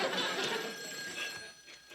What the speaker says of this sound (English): That's probably the phone.